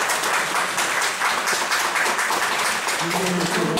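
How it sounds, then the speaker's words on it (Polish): Steady applause fills a city council session about closing a Kraków middle school, a dense continuous wash of many hands clapping throughout, with a faint voice emerging near the end. "Bardzo dużo oczywiście oklasków"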